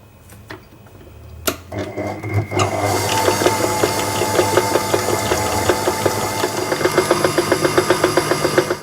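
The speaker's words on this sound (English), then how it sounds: "Just beat this on low to low medium for about 2 to 3 minutes until it's thick and creamy." An electric mixer on low to medium speed beats a thick, creamy Nutella mixture, with a steady close whir and a rhythmic ticking chatter that builds after a few clunks at the start.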